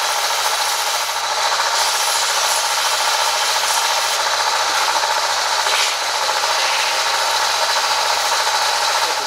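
Opal being ground on a finer grit wheel, a steady loud rasping hiss with a running motor beneath, continuous and close with no talk.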